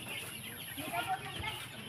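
Chickens clucking at a distance amid faint outdoor background noise, a few soft calls scattered through the moment.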